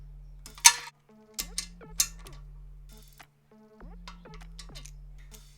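Torque wrench tightening oil pan bolts on a Subaru STi, giving sparse metallic clicks and light clinks with short pauses, close and fairly quiet.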